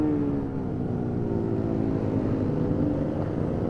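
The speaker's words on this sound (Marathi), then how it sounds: "काय आवाज यायला लागलाय गाड्यांचा" Engines drone steadily at a drag race event in Kolhapur, a continuous dense roar of motorcycles with a slowly rising pitch, loud and constant throughout with no speech over it.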